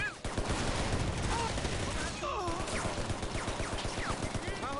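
Sustained bursts of machine-gun fire rattle nonstop in the shooter game Shadow Ops: Red Mercury as enemies fire through a wall, loud and dense with rapid repeating shots and a brief dip midway.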